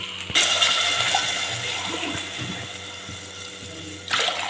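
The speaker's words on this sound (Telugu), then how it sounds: "మూడు గ్లాసెస్ వాటర్ అయితే వేసేసాను." Three glasses of water pour into a cooking pot of rice for gongura chicken pulao, a steady splashing stream that stops briefly near the end and resumes.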